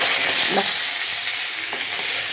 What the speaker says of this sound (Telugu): ఆవాలు చిటపట్ల ఆడుతున్నప్పుడు జీలకర్ర కొంచెం మెంతి కూర వేద్దాం